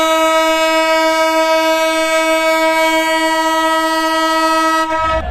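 The Madhumati Express sounds a long, loud, steady horn blast as it departs Rajbari railway station, holding one sustained tone before cutting off near the end.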